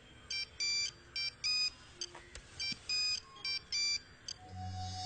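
Electronic telephone ringtone chirping in repeated short bursts of paired high beeps with brief gaps, fairly clear over quiet background and a low hum near the end, a hospital calling about an urgent accident case.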